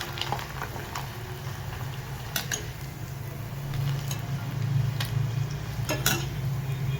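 Rice kurdai frying in hot oil, a steady bubbling sizzle with a few sharp clinks of a utensil against the pan.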